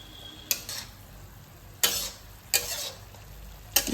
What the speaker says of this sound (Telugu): మూత పెట్టకుండా ఇదే విధంగా చిక్కుడుకాయలను కలుపుతూ 1-2 మినిట్స్ వేగనిద్దాం